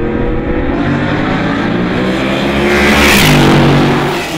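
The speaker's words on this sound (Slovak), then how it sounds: "najväčšiu zvukovú kulisu na Slovakia Ringu urobili vozidlá s objemom motora nad 3 litre" Racing cars with engines over 3 litres roar loudly past at the Slovakia Ring circuit, a continuous engine blare that swells as they pass close by.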